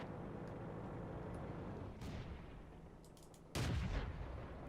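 Short-barreled gun of a Matilda Black Prince tank fires in World of Tanks: one heavy boom near the end stands over a steady rumbling engine bed, with a fainter shot or impact a little earlier.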